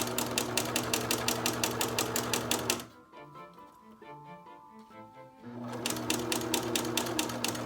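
A sewing machine stitches a patch pocket in quick even bursts of rhythmic needle clatter, stopping midway for a quiet pause with faint handling clicks, then resuming.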